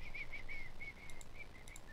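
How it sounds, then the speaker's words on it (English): A person whistles a short series of faint, thin, high notes in broken phrases, heard alone against a quiet background. "Who's whistling?"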